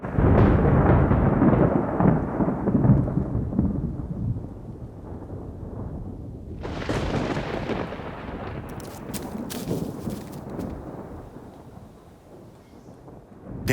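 Thunderstorm with rain over the stone forest of Madagascar, the last storm before the long dry season: a heavy, steady roar of rain and rumbling thunder, easing midway before a fresh loud surge and crackling bursts that fade toward the end.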